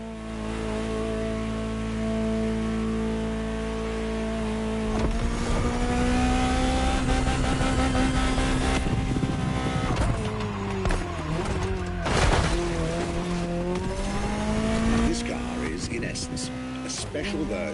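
A Ferrari GTO, the Gran Turismo Omologato, driving in Motorfest: a steady engine drone that rises as the car accelerates, with revving pitch changes and gear shifts, loud and close throughout.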